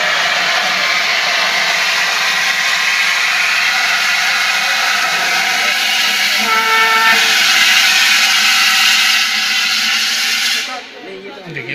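A fire extinguisher discharges its gas onto a fire in a loud, steady, broadband hiss lasting about ten seconds, then cuts off abruptly, leaving quieter background sound.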